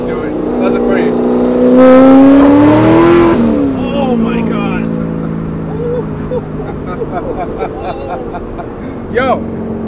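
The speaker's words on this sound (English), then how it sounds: "I love having this active rev match thing. It just does it for you perfect every time." A supercharged, cammed Corvette Grand Sport engine blips sharply upward in an automatic rev-match, swelling loud near the middle and falling back to a lumpy, burbling idle, heard close and up front.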